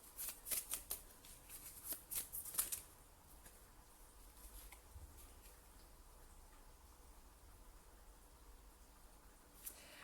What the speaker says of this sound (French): j'ai mélangé des cartes.